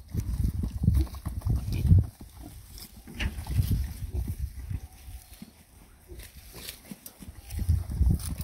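Low, rough grunts and snorts come in short bursts from nearby Kunekune piglets, with shuffling and chomping noises between them.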